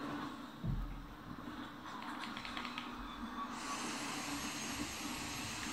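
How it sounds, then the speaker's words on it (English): A household hoover drones steadily in the background throughout, a broad constant whooshing hum with a brief thump near the start and a brighter, harsher tone partway through. "Sorry for the hoover."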